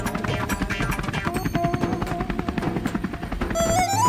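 Animated cartoon helicopter in flight, a rapid chopping rotor thud running steadily under music, with a rising whistle-like tone near the end.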